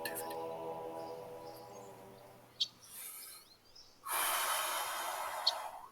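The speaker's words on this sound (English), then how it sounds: "Yes, I'm breathing." A person breathes deeply in and out during a calm guided session, slow audible breaths with a sharp snort-like intake partway through, close and quiet.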